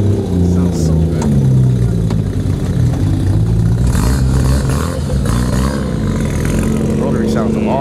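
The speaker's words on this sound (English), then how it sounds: "Rotary sounds awesome." A Mazda RX-7 rotary engine at a car meet revs and burbles loudly up close, its choppy idle rising into throaty revs, with people talking over and around it.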